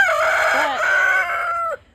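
A young rooster crows close by, a single strained, slightly wavering cock-a-doodle-doo that breaks off abruptly at the end.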